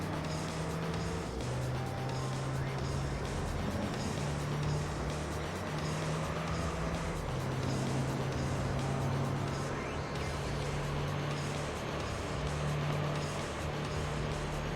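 A race car engine in Gran Turismo 3 during an LMP race, a continuous loud droning hum with shifting pitch as gears change, running throughout with no talking.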